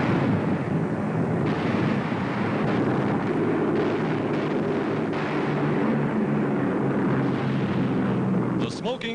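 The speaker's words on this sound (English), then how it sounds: "The smoking shoreline reveals the effects of the naval bombardment." Naval bombardment by American destroyers on a Japanese island airfield, a steady rumble of distant explosions and blasts rolling continuously under a narrator's voice.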